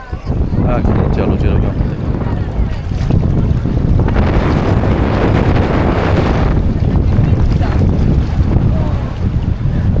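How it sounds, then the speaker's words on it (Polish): Strong hot wind at Elafonisi beach on Crete buffets the microphone in loud, continuous gusts, roaring and rustling throughout, with a voice faintly mixed in under the blowing. "gorący wiatr jak z suszarki tu wieje"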